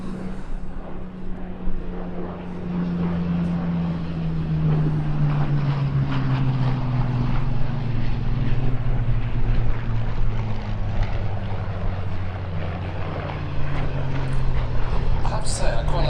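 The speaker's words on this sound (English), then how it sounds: "I quite like to see the Hurricanes chasing the 109s." Hurricane and Bf 109 propeller fighters flying at an airshow, a loud droning engine note sliding gradually in pitch as the aircraft pass, steady and continuous with people talking over it.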